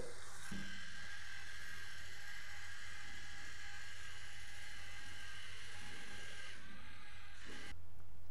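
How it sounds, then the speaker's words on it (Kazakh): A classroom robot runs its maze-exit program with a steady mechanical whir and a faint ratcheting gear noise. The sound stays even and close, shifts near the end, then stops, and no one speaks. "роботымыз да сол бағдарламаға сәйкес іске қосылды"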